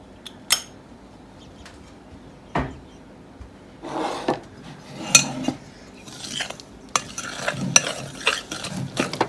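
Vanilla mixed into rhubarb custard batter in a bowl, with irregular utensil clinks and scraping strokes that grow more frequent toward the end, close and fairly loud against a quiet background.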